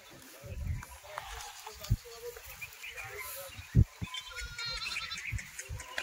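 Goats bleat in short, sharp calls among a small herd being sold, several brief cries standing out while people talk in the background.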